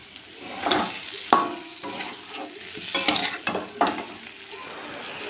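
A spice paste being stir-fried in oil for a tangra fish curry, bubbling sizzle under a run of spatula scrapes and clinks against the pan, irregular and close, with no voices.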